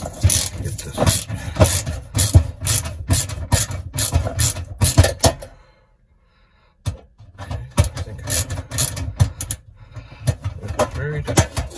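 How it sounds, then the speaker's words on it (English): A socket wrench ratchets on a stove element's mounting, giving rapid clicking bursts with a short silent pause midway, then more clicking and handling noise up close. "I believe I have a suitably sized socket wrench."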